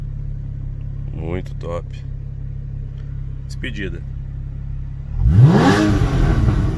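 A 2013 Porsche Cayman S 981 idles with a low steady hum while people talk briefly, then its engine revs hard and loud near the end, a rising, rasping exhaust roar.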